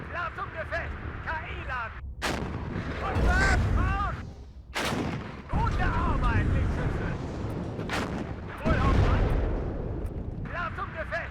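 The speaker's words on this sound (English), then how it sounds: "Nice fuel explosion" A fuel explosion in the WARNO war strategy game booms several times amid repeated heavy artillery blasts and rumbling battle noise, loud throughout, while someone talks over it.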